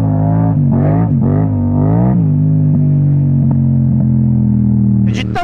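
Yamaha MT-07 motorcycle fitted with an Akrapovic exhaust, ridden on the road: a loud, steady engine drone that rises and falls through a few throttle blips early on, then holds a continuous rumbling note, with no talking.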